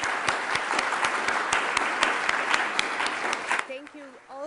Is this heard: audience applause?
yes